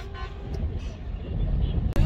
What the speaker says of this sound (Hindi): हॉर्न मारो हॉर्न मारो